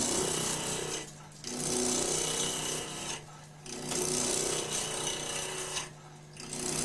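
A wood lathe spins at about 1500 RPM with a steady, loud broadband hiss and a low hum, as a tool cuts the turning wood. Three short pauses break the cutting, each time leaving only the quieter running motor.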